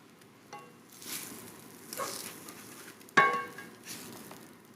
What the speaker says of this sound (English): Let's pop one egg on there.